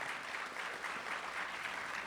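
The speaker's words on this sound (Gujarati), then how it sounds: "બેયને એકવાર જોરદાર તાળીઓથી વધાવો." Steady, dense applause from a large audience at a festival gathering, continuous clapping heard at moderate distance without pause or voices.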